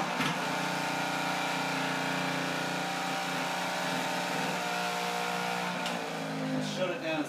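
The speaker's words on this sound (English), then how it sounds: "It's a little out of balance now. I hear it rattling." A Fusion juicer runs out of balance, a loud continuous motor whir with a rattling, buzzing edge that holds steady throughout.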